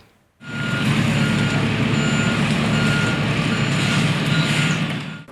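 Trucks and machinery clear construction debris after a missile strike, making a steady loud engine rumble with a repeating reversing beep over it. The noise starts abruptly and holds for about five seconds.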